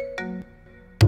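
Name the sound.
phone ringtone of an incoming call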